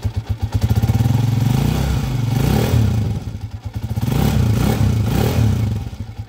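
Close up, an overhauled TMX155 motorcycle engine runs with a pulsing, revving drone that swells and eases in waves, accompanied by mechanical clatter, and no one speaks over it.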